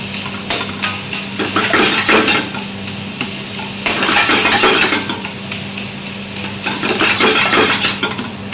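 Minced keema in a frying pan sizzles as the back of a spoon mashes and stirs it, scraping and knocking against the pan in uneven bursts over a constant close hiss, with no speech.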